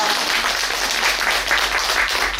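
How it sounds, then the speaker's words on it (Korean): An audience at a national poetry recitation contest gives loud, sustained applause to open the event, a dense even wash of clapping with no pauses. "큰 박수 부탁드립니다."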